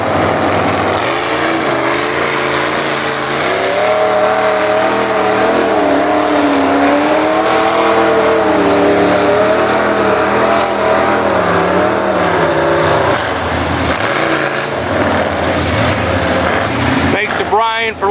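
Several 4x4 monster mud trucks churn and rev through a muddy field at an off-road event, their engines roaring loudly and continuously close by with rising and falling throttle and no talk over them.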